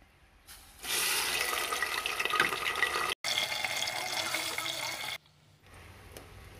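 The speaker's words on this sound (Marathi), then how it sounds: "हे यात टाकले की आपण गरम केलेलं पाणी हे पण टाकून घ्यायचं आहे" Hot water is poured into a pan for jaggery broken-wheat lapshi, a loud continuous splashing gush lasting about four seconds with a brief break, alone and close.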